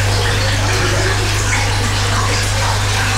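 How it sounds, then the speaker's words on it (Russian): Water rushing continuously from damaged pipes in a flooded basement, a loud steady gush with a low hum beneath it. "Где-то было даже слышно, как вода до сих пор течет из поврежденных труб."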